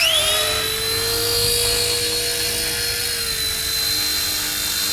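Eachine E110 drone lifting off on auto takeoff, its small propellers giving a loud, steady high-pitched whine and buzz that holds constant throughout, close by.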